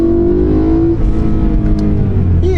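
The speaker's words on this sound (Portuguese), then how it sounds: "E assim a gente começa a trafegar com o M3 E92." A 2012 BMW M3 E92 with a DCT gearbox drives along, its engine a loud steady close drone with a rising pitch early on, heard from inside the car and with no talking.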